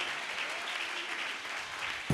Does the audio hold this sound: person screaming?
no